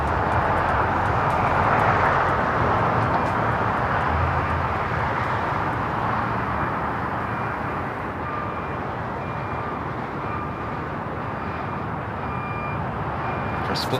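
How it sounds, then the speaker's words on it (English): A cargo airliner taxiing at Los Angeles International Airport, a loud, steady jet engine roar that holds throughout with a broad rumbling whine, heard from outdoors at a distance, no talking. "Green Air Flight 18 now starting its taxi."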